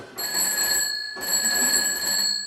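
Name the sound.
old party-line telephone bell ringing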